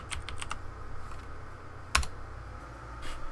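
Quick keystrokes on a computer keyboard as a reboot command is entered on an Ubuntu Server machine: a brisk burst of clicks, a pause, then one firm Enter-like press, close and fairly quiet over faint room noise.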